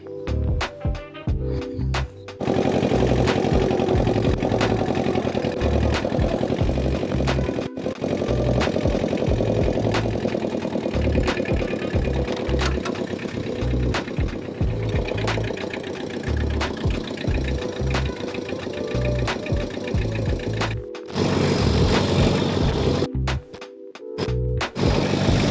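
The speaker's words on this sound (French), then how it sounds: "On va démarrer le tracteur." A tractor engine turns over and settles into a loud, steady knocking idle, with brief cutouts and restarts at the beginning and again near the end.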